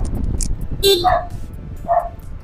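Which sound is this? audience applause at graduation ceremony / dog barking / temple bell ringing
dog barking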